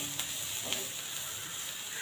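Spices sizzle steadily in hot oil over onions in a pan on low heat, a continuous close hiss with a couple of faint stirring ticks.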